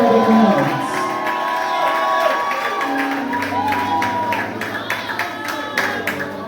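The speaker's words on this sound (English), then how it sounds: "I want you to applaud the graduates and make some noise inside here and feel the noise." A crowd at a Bethel Christian High School graduation cheers and whoops for the graduates, loud at first and then easing into scattered clapping and shouts.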